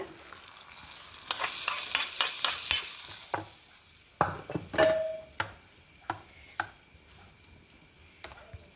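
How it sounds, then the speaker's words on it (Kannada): Spices crackle and sizzle in hot oil as a tempering for tomato chutney, with sharp pops and a few clinks of a stirring spoon against the pan, no voices. "ಈಗ ಒಗ್ಗರಣೆ ಹಾಕೊಂಡು ಬಿಡುವ"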